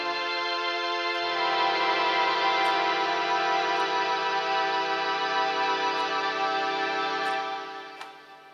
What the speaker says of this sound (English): This is a Logan string melody, which is absolutely amazing for making really, really creepy sounds like this.